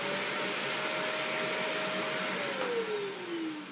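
A vacuum cleaner runs loudly and steadily up close with a constant whining motor tone that drops in pitch toward the end as the airflow changes.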